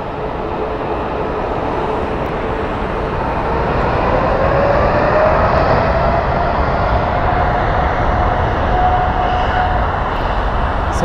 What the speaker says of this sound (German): So, Takeoff für den Dreamliner von der Egyptair.